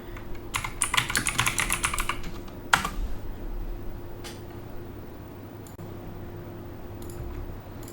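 Typing on a computer keyboard to run an npm install command, with a quick flurry of close keystrokes, a sharp final key press, then a few isolated taps over a steady low hum.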